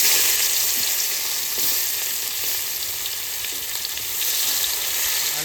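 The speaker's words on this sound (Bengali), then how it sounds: "মাংসতে একটু বেরেস্তা ভাজবো তার জন্য আমি পেঁয়াজটা তেলে দিয়ে দিচ্ছি" Onions sizzle in hot oil for beresta, a steady, loud, even frying hiss that holds throughout with no voices.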